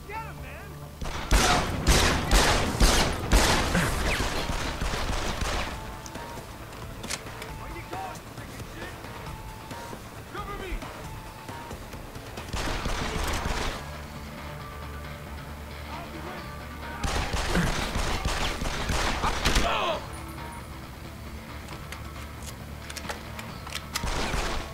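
Bursts of rapid video-game gunfire in Deus Ex: Human Revolution, dense volleys of shots in a few clusters with quieter stretches between, a voice talking in between.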